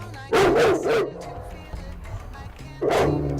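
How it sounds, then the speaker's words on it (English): An angry dog on a street barks in two loud, close bursts of rough, harsh barks, separated by a quieter stretch with faint background noise. "The racist dog, turns out, is just angry at everyone."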